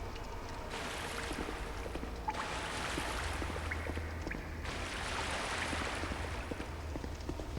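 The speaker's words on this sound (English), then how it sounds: "Like this waterfall right here will put out your torch." A waterfall rushes in Dark Souls 2: Scholar of the First Sin, a dense, steady roar of falling water that holds at an even level throughout, with no voices.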